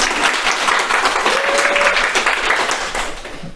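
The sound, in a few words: audience applause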